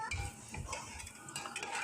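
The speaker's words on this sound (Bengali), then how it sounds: "তেল দিয়ে এরপরে এর মধ্যে পেঁয়াজ কুচি ছেড়ে পেঁয়াজ কুচিটা লাল লাল" Chopped onions frying in oil inside a pressure cooker give a quiet, close sizzle as they are stirred, with soft scraping and light metal contact over a couple of seconds, and no talking.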